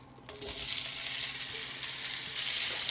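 Andouille sausage frying in a cast iron skillet, giving a steady, close, loud sizzle that fills the clip without a break, with a faint stir near the start.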